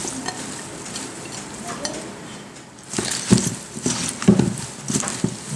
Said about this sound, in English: you can be like me and just toss them with your hands